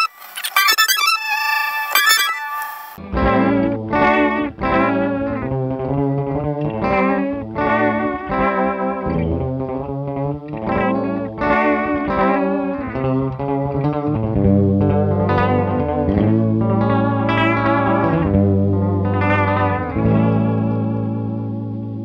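Electric guitar played through a DIY Total Recall analog delay pedal with the blend turned up, a brief bright strum followed by a melodic line thick with chorus-like warble and trailing echoes, steady and loud throughout, no talking.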